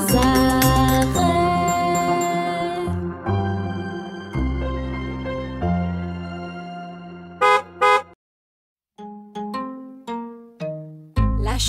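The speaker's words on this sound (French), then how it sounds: "Et le klaxon du bus fait bip, bip, bip sans arrêt." A bus horn beeps in a children's nursery song, loud repeated toots riding over bright musical backing, with a short pause before more rhythmic beeps.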